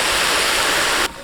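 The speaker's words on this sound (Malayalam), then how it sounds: "ഇനി നമുക്ക് ചിക്കനകത്തോട്ട് കുറച്ച് വെള്ളം ഒഴിച്ച് കൊടുക്കാം കേട്ടോ" Water poured into chicken cooking in a pan for Indo-Chinese dragon chicken, a loud, steady rushing pour with no voices, cutting off abruptly near the end.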